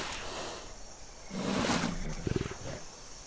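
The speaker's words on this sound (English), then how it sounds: "That sounded almost like somebody else's roar" A dinosaur roar in the survival video game The Isle rises as a loud, rough bellow with a brief pulsing growl at the end, heard alone over a low ambient wash.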